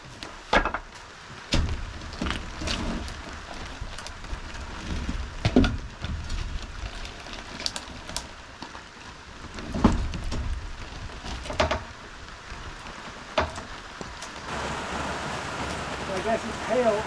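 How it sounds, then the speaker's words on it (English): Hail falling during a storm at an outdoor off-grid shower build made of 2x4 lumber, sharp irregular ticks and clatters striking wood and other surfaces, scattered across the clip over a constant wash of background noise. "I guess it's hail, not rain."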